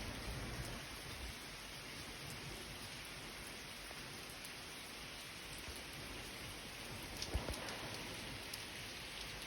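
Heavy rain pours steadily, a dense broadband hiss of drops hammering surfaces, with one brief louder knock near the end.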